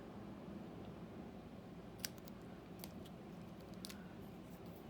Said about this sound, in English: so I'm just going to snip it.